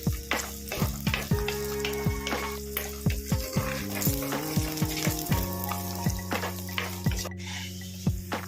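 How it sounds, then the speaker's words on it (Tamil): Curry leaves, onion and garlic sauté in a pan for a garlic and curry leaf gravy, giving a continuous close sizzle broken by frequent scraping stirs, with faint tonal background sound throughout. "வெங்காயம் பூண்டு இதெல்லாம் நல்லா வணக்கின பின்னாடி இந்த பொடி பண்ண கருவேப்பிலையும் போட்டு நல்லா வணக்கிடலாம்"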